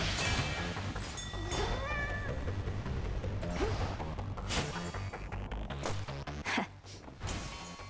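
Toula, the cat familiar in Hades II, gives a few short meows amid busy combat effects. Dense crashes and whooshes surround the calls throughout.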